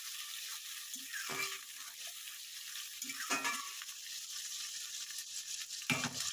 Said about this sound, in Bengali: টমেটোটাকে একটু ভালো করে কষিয়ে নেবেন